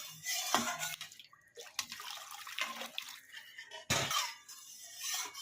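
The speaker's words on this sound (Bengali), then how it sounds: "এই কড়াইটার মধ্যে গরম জল দিলাম যেহেতু মশলা লেগে আছে কড়াইটার মধ্যে একটু ধুয়ে নেবো" Hot water is poured into a wok coated with spice residue to rinse it, producing splashy pours and sloshing bursts with drips between them, close and moderately loud, with no voices.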